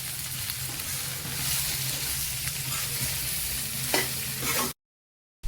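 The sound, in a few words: okra being stirred in spice masala in a pan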